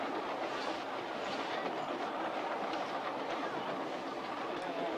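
Train cars roll steadily along the rails, a constant loud rumbling hum with faint rhythmic clatter from the wheels, continuous throughout and with no clear talking.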